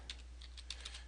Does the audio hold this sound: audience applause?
no